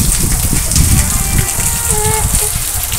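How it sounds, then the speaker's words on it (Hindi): Dense, steady downpour of heavy rain hissing and splattering on surfaces, with faint voices and a few chirps in the background. "देखिए कितना बारिश हो रहा है"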